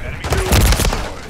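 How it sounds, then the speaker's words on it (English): Gunfire in the Call of Duty video game: a short, loud burst of rapid shots and booms packed into about a second, close and harsh. "You're shooting at friendlies!"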